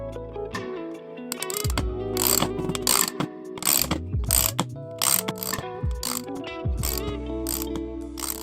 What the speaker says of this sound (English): I'm going to thread the holes with the bolt itself.